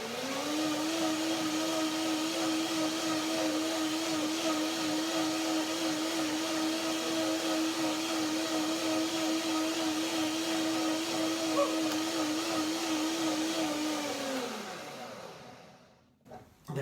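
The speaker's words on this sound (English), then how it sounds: "Blender dance number 2." A kitchen blender whirs steadily, blending apple, banana, walnuts and milk into a soup. The even motor tone holds loud and unbroken for about fourteen seconds, then winds down and stops.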